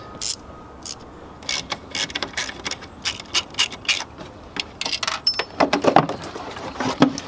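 A ratchet with a 10 mm socket turns a front bolt beside the overflow jug during alternator removal on a GM 3400 V6, giving close, rapid bursts of ratcheting clicks that start and stop repeatedly, with no speech.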